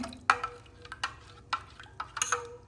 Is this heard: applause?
no